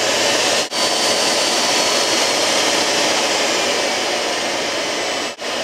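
A vacuum cleaner runs loudly and continuously with a steady rushing whine, broken by two brief dips in the airflow.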